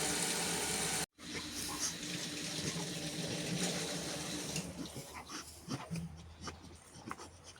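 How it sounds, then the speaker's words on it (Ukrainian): Water running from a tap into plastic bottles in a home, a continuous steady hiss of flow broken by a brief cutoff near the start, then resuming with faint splashing and background movement. "Набираю пляшки воду."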